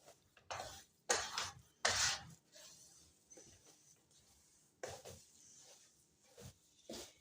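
Spoon scraping and stirring moong dal in a pan while it roasts, with clinks and scrapes in uneven bursts, loud at times and softer between, no talking.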